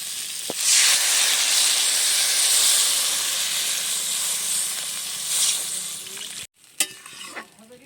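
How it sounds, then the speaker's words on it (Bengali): Water hits a hot pan of vegetables fried with chili powder, sparking a loud, close, continuous sizzling hiss with a stirring surge near the start. The hiss cuts off abruptly near the end, then brief clatters follow. "এবারে আমি এখানে পরিমাণ মতো জল দিয়ে দেবো"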